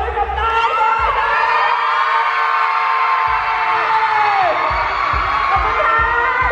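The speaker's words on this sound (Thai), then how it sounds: "ขอเสียงปรบมือกับนายด้วยนะ" Audience at a live stage event in a stadium venue cheering, whooping and shouting loudly throughout, with a dense, sustained roar of voices and some low thumping underneath.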